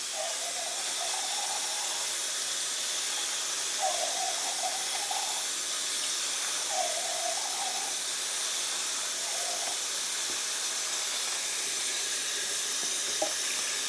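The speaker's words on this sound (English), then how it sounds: "Alright, you take sauerkraut. We're going to rinse it, drain it" Cold tap water runs steadily in a sink, rinsing sauerkraut with a constant loud hiss. Faint, brief kitchen sounds appear now and then.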